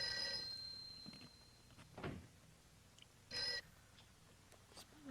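An office telephone rings unanswered, its bell coming in short bursts at a moderate distance over a quiet room, with no voices.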